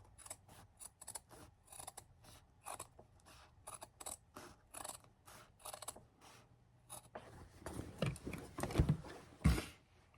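Scissors snip fabric close to a seam of patchwork pants in a quick series of sharp, near cuts, with fabric rustling and a few louder handling bumps toward the end.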